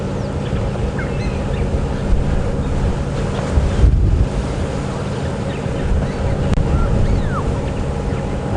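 Strong wind buffets the microphone on a safari drive at Djuma Game Reserve in a constant low rumble, with a roar like distant surf and occasional gusts swelling louder.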